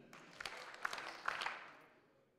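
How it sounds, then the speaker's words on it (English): An audience at a talk claps in unison in a few quick bursts, sounding faint and distant in a large room before fading out. "got to clap 3 times if you can hear me"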